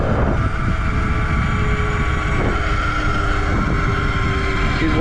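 Sur Ron electric dirt bike fitted with a Chi 72V mod, accelerating under throttle with a steady, loud motor whine and rising drive noise throughout, broadband road and wind roar underneath, no talking.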